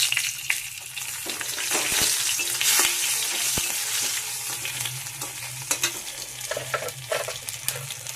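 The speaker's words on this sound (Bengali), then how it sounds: "এবার দেবো এটা কালো জিরে ফোড়ন, কালো জিরের লঙ্কা," Loud, continuous sizzling of nigella seeds and chilli frying in hot oil in a pan, with a spoon stirring and scraping now and then at close range.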